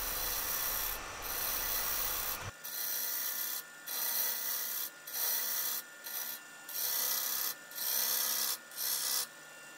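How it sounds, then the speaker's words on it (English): A wooden torus spinning on a lathe is worked with a bowl gouge and a negative rake scraper, making a steady rasping scrape in repeated passes, each about a second long with short quiet gaps between them. "I'll use a combination of bowl gouge and negative rake scraper to get my surfaces where I need them"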